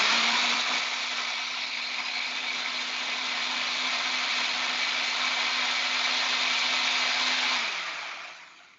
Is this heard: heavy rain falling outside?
no